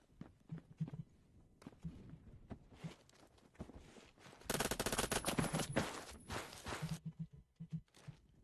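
Gunfire in the Phantom Forces shooter game: a dense burst of rapid automatic shots in the middle, with scattered single shots and footsteps before and after.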